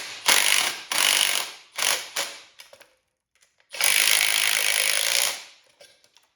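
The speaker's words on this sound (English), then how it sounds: "I'm gonna get my ratchet and stuff and tighten them down." A hand ratchet clicks in quick bursts, tightening bolts on a car rear end: several short runs of rapid pawl clicking, then a pause and one long, steady run of loud, close clicking.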